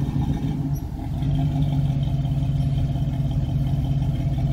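A 1966 Pontiac Catalina wagon's engine idles steadily and fairly loud with a low rumbling drone and light clatter, the exhaust warming up in humid weather, with no talk.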